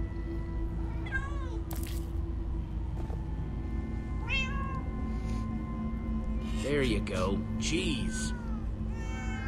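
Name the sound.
cats meowing in the video game Minecraft: Story Mode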